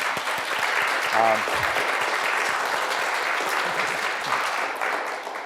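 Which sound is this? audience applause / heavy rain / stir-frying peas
audience applause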